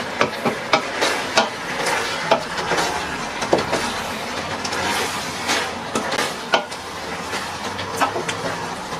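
Beans being stirred in a cooking pan, with repeated scraping knocks and a continuous sizzling hiss from the pan, close and steady with no talking.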